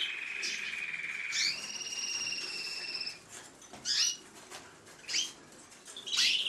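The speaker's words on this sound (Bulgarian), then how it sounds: "И тук имам липохромно бяла птица, която аз си ги харесвам белите канари" A white lipochrome canary in a cage, with a sustained whistling trill followed by several short chirps and faint wing flutters, near and fairly soft.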